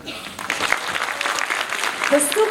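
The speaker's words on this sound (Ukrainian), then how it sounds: "Ваші оплески нашій юній поетесі." An audience applauds a young poet at a Ukrainian festival, a brief burst of clapping under voices and background noise, starting abruptly and continuing at moderate loudness.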